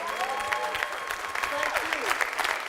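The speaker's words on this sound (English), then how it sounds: "Give them a round of applause, y'all." An audience breaks into lively applause, rapid clapping with scattered whoops and cheers, fairly close and sustained.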